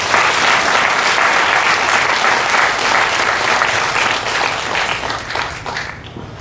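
Sustained audience applause at a spiritual discourse gathering in Puri, loud, dense and steady throughout, tapering slightly at the very end with no talk over it.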